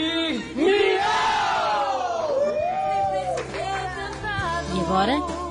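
A group of people chanting a war cry led by a guest, with loud, rising and falling shouted and sung voices over a crowd-like background.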